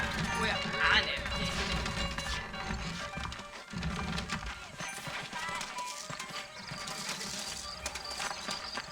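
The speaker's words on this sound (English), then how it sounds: "I got the horses saddled up and ready out front." Horse hooves clip-clopping at a steady walking rhythm in the Western video game Red Dead Redemption, continuous and fairly close, with talk and game ambience running alongside.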